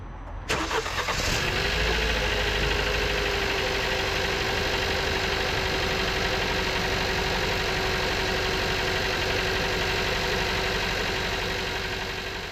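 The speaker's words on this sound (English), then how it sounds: "here's the engine running after a new set of spark plugs" Car engine started and left idling after new spark plugs, still misfiring, with a rough steady idle that carries on close and loud after the opening crank.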